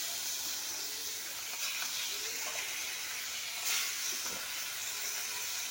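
Pieces of rohu fish fry in hot oil, giving a faint, even hiss and sizzle that holds steady throughout with only small swells.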